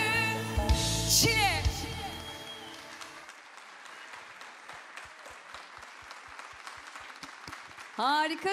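A studio audience applauds at a Turkish televised music show, a dense burst of clapping running under sung and spoken voice early on, then settling into steadier, fainter clapping with a louder swell at the end.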